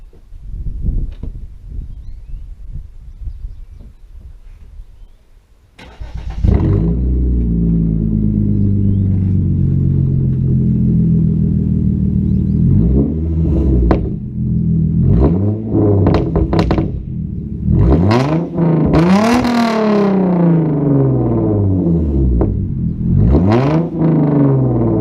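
A straight-piped 3.8 Hyundai Genesis Coupe cranks and fires, settling into a loud, close, rumbling idle, then rises and falls through several sharp throttle blips and revs.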